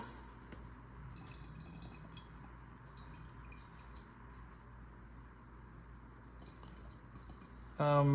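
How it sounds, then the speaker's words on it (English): Water trickles and drips while filling the tank of a Bissell Steam Shot steam cleaner, a faint steady dribble ending in a louder burst near the end. "So you take that off and then just fill it with water."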